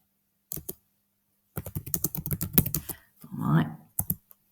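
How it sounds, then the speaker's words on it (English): A name typed out on a computer keyboard gives a couple of clicks, then a quick run of close key taps, then a brief whooshing burst and two final taps. "So if I type your name,"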